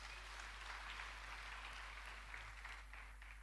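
A congregation at a Sunday church service claps for its teachers, a faint, sustained wash of many hands applauding at a distance with no voices on top.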